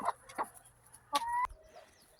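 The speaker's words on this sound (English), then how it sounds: "I have the hens for the eggs." Hens kept for eggs on a homestead cluck in short, close bursts, a few quick clucks followed by a rising drawn-out call, with nobody talking.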